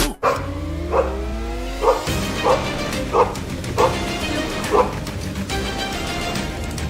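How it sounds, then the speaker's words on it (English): Kraken, a police canine, barks in a steady series of about seven loud, evenly spaced woofs close by, with a car engine humming underneath. "Here's my dog Kraken."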